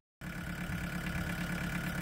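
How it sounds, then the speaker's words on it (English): A diesel engine idles steadily while warming up, starting abruptly after a brief silence and then holding an even, close, low rumbling drone with no talking. "the engine's been running for about 15 minutes"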